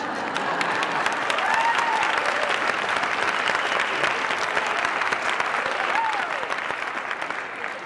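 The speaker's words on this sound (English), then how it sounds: "That's generally an applause line." An audience at a spiritual talk breaks into steady applause, a dense, even wash of many hands clapping that holds at a fairly loud level throughout.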